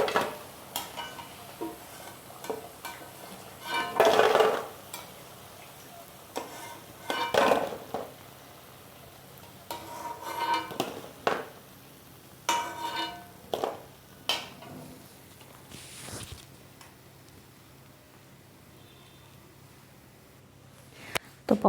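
Fried pakoras are lifted from a pan onto a plate: scattered clinks and scrapes of a utensil against metal and a dish, in irregular short bursts over a quiet background with a faint sizzle.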